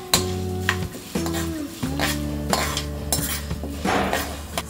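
Mustard seeds, urad dal and dry red chillies sizzle in hot oil in a pan, a steady crackle broken by sharp metallic clinks and scrapes from a spoon stirring against the vessel.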